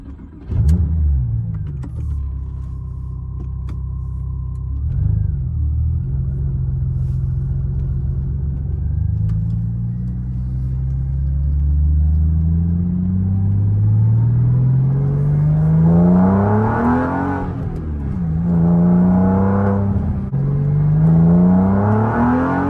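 A Porsche 911 996 C4S from 2002-2005 heard from inside the cabin while driving, its engine a steady low rumble that rises and falls with revs, swelling louder toward the end with no talking.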